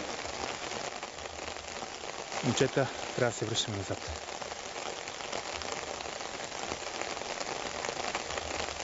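Steady rain falls over a mountain trail near Berkovitsa, a constant hiss throughout, while people talk briefly partway through.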